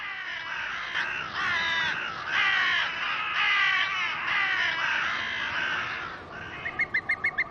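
Carrion crows caw repeatedly in a rough, harsh chorus of overlapping calls, loud and close, ending with a quick burst of short rhythmic clicks in a rocky mountain canyon setting.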